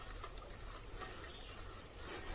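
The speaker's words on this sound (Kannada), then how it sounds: "ಈಗ ಮಸಾಲೆಗೆ ನಾವು ನೀರು ಹಾಕುವ" Water poured into a masala mixture outdoors in a forest while preparing a chicken grill, a steady, continuous splashing pour heard fairly close for the whole stretch.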